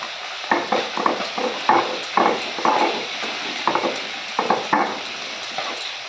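Mustard seeds, ginger and dried chilli being ground on a stone slab with a stone roller, a rhythmic series of gritty scraping strokes, about a dozen close pushes with short pauses between them.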